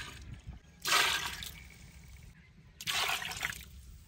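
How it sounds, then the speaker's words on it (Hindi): Water is poured into a pot of goat trotters simmering for soup in a village kitchen, two separate splashing pours with a quiet pause between them. "पानी थोड़ा कम हो गया है, पानी और डाल लेंगे।"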